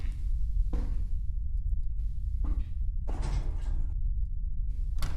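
A door in the horror game From The Darkness swinging open, heard as a series of creaking, scraping bursts separated by quiet gaps, close and distinct over a low ambient drone.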